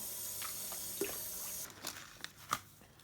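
A little water is poured into a bowl of chopped blackberries, producing faint, scattered drips and soft splashes in a quiet kitchen.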